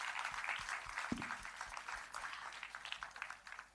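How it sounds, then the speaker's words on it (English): An audience at an Arangetram Bharatanatyam dance debut breaks into applause, a dense crowd of clapping heard from a distance and sustained for several seconds, with one sharper nearby thump partway through and the claps thinning toward the end. "Please give her a big round of applause."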